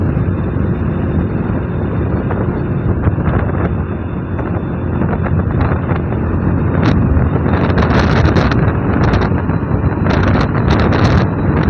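Riding a Hero Super Splendor 125 motorcycle, with a loud, continuous engine drone heavily mixed with rushing wind buffeting the microphone.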